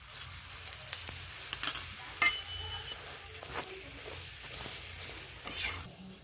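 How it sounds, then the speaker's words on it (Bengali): Taler paratha frying in oil on a griddle, soft sizzling with intermittent scraping and stirring knocks from a spatula, fairly quiet and close. "এবার আমি তেল দিয়ে ভালো করে ভেজে নেব।"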